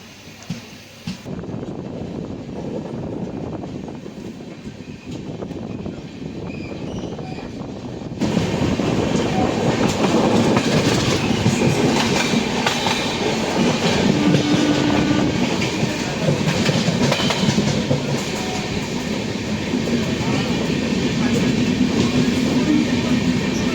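A long-distance passenger train runs on rails through Goa toward Nizamuddin, giving a steady, loud rumble and rattle that swells noticeably partway through and continues without a break.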